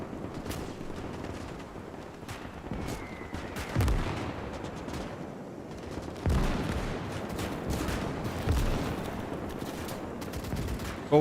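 Tank cannon firing at a tower in Call to Arms - Gates of Hell on the Eastern Front, heavy booms at intervals amid steady rattling machine-gun fire and distant battle noise.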